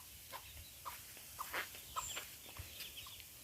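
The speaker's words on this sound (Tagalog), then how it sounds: "Mga manok." Chickens cluck in short, quiet bursts at intervals, faint and somewhat distant at a riverside spot at low tide, with no talking.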